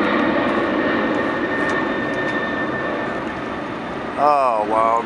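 A Corsair Boeing 747 takes off from Montreal, its jet engines roaring loud and steady throughout with a broad, sustained rumble and whine. A voice cuts in briefly near the end.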